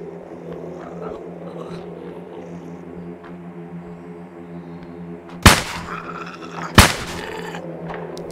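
A gun in the game Survive the Nights fires two loud, sharp single shots about a second apart, cutting through a low, steady humming background.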